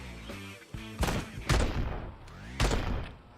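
Gunfire in the motorcycle action game Ride to Hell: Retribution: three sharp, loud shots, spaced unevenly, sounding over a tonal in-game music bed.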